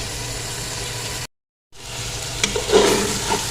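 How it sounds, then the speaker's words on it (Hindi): Goat trotters (paye) frying and being roasted in a pot for Lahori-style paye, a steady close sizzle with a brief silent gap, then louder scraping stirs toward the end. "पाए जो है ये हमारे अच्छे से भूनते जा रहे हैं।"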